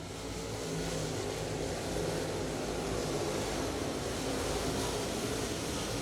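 Dirt late model race cars coming off turn four at a speedway, a continuous distant engine roar blended with broad crowd and track noise, fairly faint and steady.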